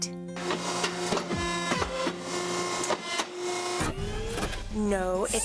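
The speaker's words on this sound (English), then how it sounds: "It's the hydraulic paper cutter." Loud mechanical whirring and clanking with rising and falling machine tones from a hydraulic paper cutter, its heavy cutter motor cycling repeatedly, close and continuous.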